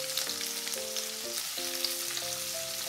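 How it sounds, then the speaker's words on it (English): Prawns frying in oil in a wok give a steady, hissing sizzle throughout, heard alongside soft background music. "So let's start frying the prawns first. 3 tablespoons of oil. Okay, it splatters quite a bit"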